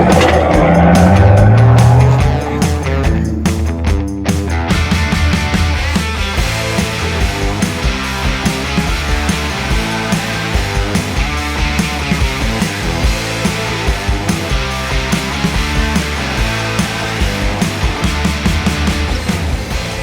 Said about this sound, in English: let's go take this thing for a drive here and see how a stock Scout really performs